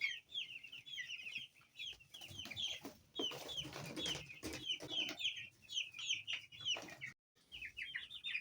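Chickens cluck and chirp near a turkey in a farm pen, with a busy overlapping stream of short calls, some shuffling and knocking underneath, and a brief drop to near silence before the calls resume.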